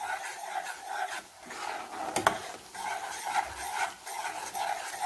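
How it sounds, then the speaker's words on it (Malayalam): Milk cream is stirred steadily in a pan while it cooks down into homemade ghee. A rhythmic scraping and rubbing runs under a low bubbling sizzle, with one sharp utensil knock midway, and nobody speaks. "കൈ എടുക്കാതെ നല്ലോണം ഇളക്കിക്കൊണ്ടിരിക്കണം."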